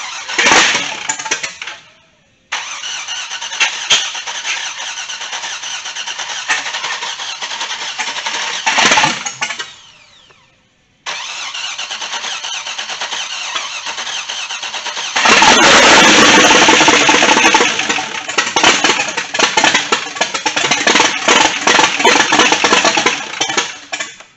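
A Chevrolet C10 truck with a swapped LS V8 cranks and fires up for the first time, the engine catching, revving and settling into a loud, steady idle close by, with a brief cutout before restarting and a harder rev later.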